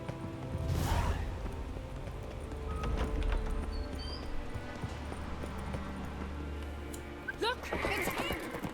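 Horse whinnies in The Witcher 3 video game, a short neigh near the start and another near the end, set against loud game music, ambience and hoofbeat-like clatter, with voices talking over parts of it.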